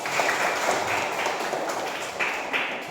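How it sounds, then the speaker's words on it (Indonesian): Schoolchildren clapping together in a classroom on the teacher's cue, a fairly loud, even patter of many hands with a few stronger accents, no talk over it. "Tepuk tangan dulu."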